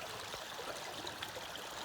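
Floodwater from a main river rushes steadily through an Acadian forest flood plain, making a continuous, even broadband roar with no voices or breaks.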